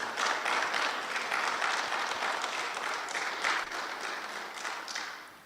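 A church congregation applauds, a steady, moderately distant wash of many hands clapping that holds for several seconds and then slowly tapers off.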